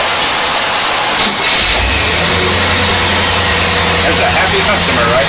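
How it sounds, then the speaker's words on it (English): An old military Jeep with a rebuilt carburetor starts up and runs, a loud, close engine rumble that settles into a steady idle under a constant wash of noise. "Listen to your run. Listen to a startup."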